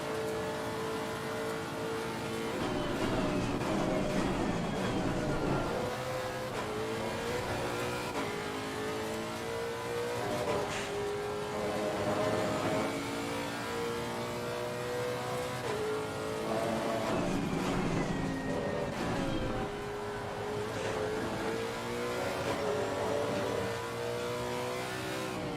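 Lexus RC F race car engine in Assetto Corsa Competizione at Imola, droning steadily for the whole stretch with repeated rising and falling revs through gear changes, loud and close, no voices.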